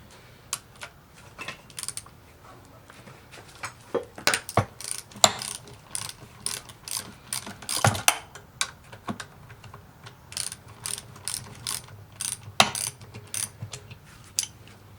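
A ratchet loosens a through-bolt on a 1967 Camaro during a rebuild, with close, irregular bursts of sharp clicking pawl sounds and brief pauses between strokes.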